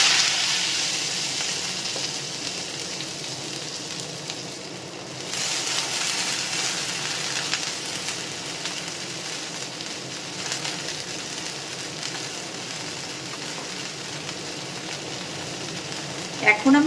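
Bitter gourd and potatoes fry in oil for a Bengali stir-fry, giving a steady, even sizzle hiss throughout with a brief clatter at the end.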